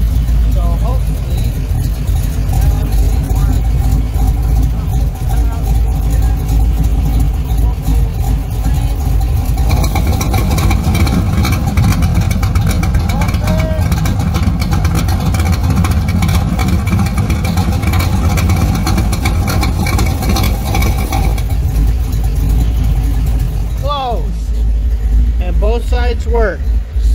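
An old car engine runs loud and close with a constant low rumble, rising in a few revs toward the end, while voices talk over it.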